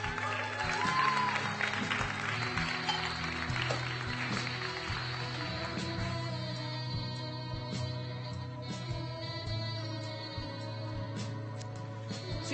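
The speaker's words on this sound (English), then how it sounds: "Give a warm round of applause for Josh." Applause from an audience at a barista competition finals, sustained clapping most dense at the start and thinning slightly over about twelve seconds, with background music and a steady low hum underneath.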